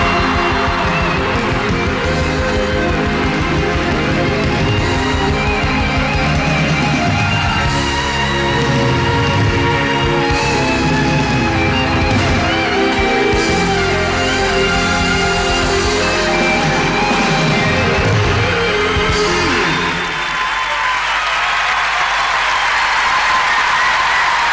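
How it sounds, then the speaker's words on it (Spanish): A large crowd at a live concert in Luna Park applauds and cheers loudly and continuously, with music and voices mixed into the roar until it thins near the end. "¿de qué aplauden las mujeres?"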